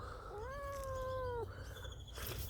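A cat gives one drawn-out, clear meow close by over a low background rumble, followed by faint shuffling and no talking.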